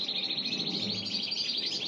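Pet canaries sing in the background in a steady, bright stream of twittering and trilling chirps, fairly faint and continuous, with a low room hum underneath and no talk.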